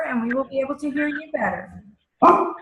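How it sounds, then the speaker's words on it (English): Tigger, a pet dog, gives a few sharp barks and yips in a home during an online meeting, mixed in with a person talking nearby. "That's my dog."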